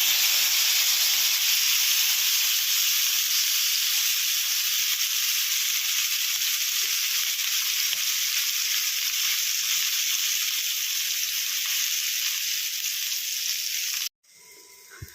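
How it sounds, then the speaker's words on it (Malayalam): Fish frying in hot oil in a pan gives a loud, steady, bright sizzle that carries on unbroken for about fourteen seconds, then cuts off abruptly near the end. "ഇനി മീൻ വറക്കാനായിട്ട് ഒരു പാൻ വെച്ചിട്ട് അതിലേക്ക് എണ്ണ ഒഴിച്ച് കൊടുത്തിട്ടുണ്ട് അതിലേക്ക് മീൻ ഇട്ട് കൊടുക്കാം"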